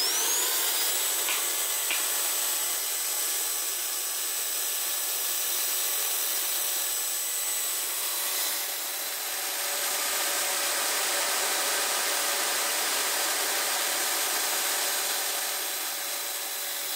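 A Milwaukee AS-30 LAC industrial vacuum cleaner runs steadily after repair, a loud continuous whooshing roar that holds for the whole stretch and swells slightly partway through, with no voices.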